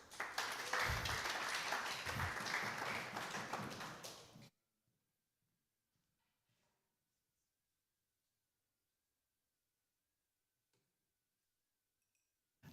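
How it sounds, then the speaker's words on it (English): Conference audience at a blockchain developer event applauding, a dense burst of many hands for about four seconds that cuts off abruptly into near silence. "Everyone give a big round of applause."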